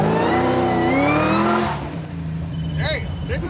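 A 1975 Caprice Classic with an LT4 engine swap and 10-speed transmission revs hard up through rising gears, loud and close, then backs off as voices talk over the lower idle.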